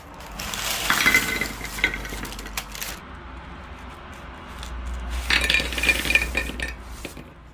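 Crispy brown butter chocolate chip mini cookies crunch in two short, close bursts of crackling bites, separated by a quieter pause.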